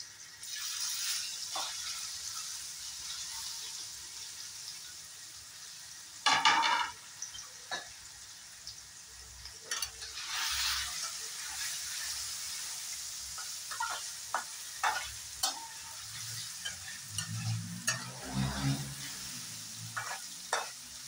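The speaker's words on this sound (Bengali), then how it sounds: "এখানে কেটে রাখা পনিরটাও একটু হালকা ফ্রাই করে নেব।" Pieces of paneer lightly frying in a pan, a soft steady sizzle under repeated spatula stirs and scrapes, with occasional louder clatters against the metal.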